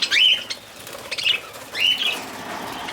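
Young budgie taking off, three short bursts of wing flapping and squeaky chirps close by, spaced about a second apart against a quiet room.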